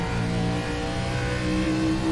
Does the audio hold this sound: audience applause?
no